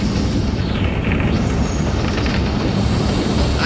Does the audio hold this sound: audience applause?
no